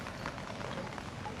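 Rain falling at night on a house, an even, continuous patter of drops on surfaces at moderate level, steady throughout with no voices.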